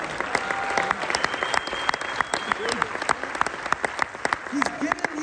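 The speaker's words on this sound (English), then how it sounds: "Can you clap like that for me right there?" Sharp, individually distinct claps at a church winter retreat gathering, with voices talking and calling out over them at close range.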